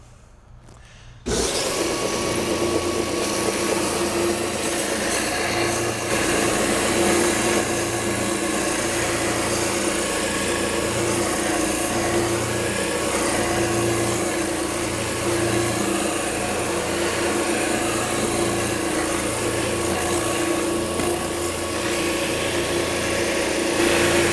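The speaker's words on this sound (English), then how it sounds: "I'm going to show you the disc sander, which will do the same thing." A woodworking disc sander starts abruptly and then runs continuously at a steady, loud level: a dense, broadband whir with a faint rhythmic pulsing underneath. No voices are heard.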